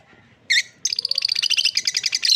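Lovebird chicks chirp close by: a short burst of high calls, then a rapid string of bright, repeated cheeps that grows louder toward the end.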